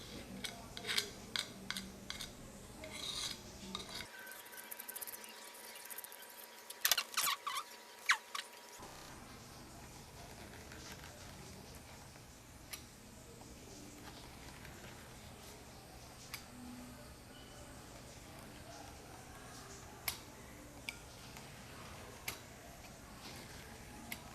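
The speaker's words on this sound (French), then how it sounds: "alors je vais venir râper les arêtes" A rasp scrapes along the edges of a handmade plaster tile in a steady, gritty rasping, close and fairly quiet. Scattered light ticks and clicks run through it, and one brief stretch sounds muffled.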